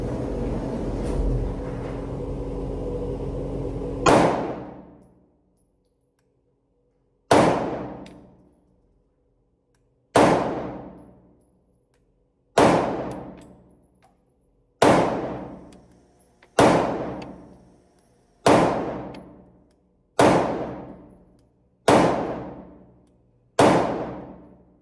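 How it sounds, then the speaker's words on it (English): A CZ P09 pistol fires ten sharp, loud shots at a target 7 yards away, spaced two to three seconds apart, after a few seconds of steady background noise. "So going 10 rounds first with the CZ P09, 7 yards"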